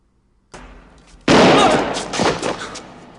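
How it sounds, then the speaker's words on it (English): In a GoldenEye (1995) film scene, a pistol loaded with a blank fires one sharp, loud shot after a softer lead-in noise. The report rings out briefly and then decays. "Orloff shoots him with a blank."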